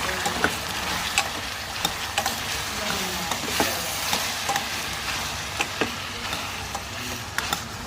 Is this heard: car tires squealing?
no